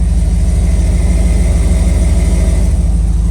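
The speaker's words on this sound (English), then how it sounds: "I can still hear a leak even after putting the putty on." A 5-litre HSV Clubsport V8 idles steadily with an exhaust leak, giving a loud, close, even low rumble with rapid pulsing and no talk over it.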